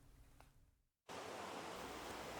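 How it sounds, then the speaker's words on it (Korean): Water in the Songgye mountain valley stream, freshly thawed after winter, flows over rocks in the spring rain. A soft rush cuts out briefly, then returns as a loud, steady, close-up roar. "겨우내 얼었던 송계 계곡이 물소리로 화음을 이룹니다"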